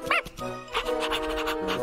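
Cartoon puppy in an animated bear show panting and whimpering in short quick bursts, fairly close, over faint background music.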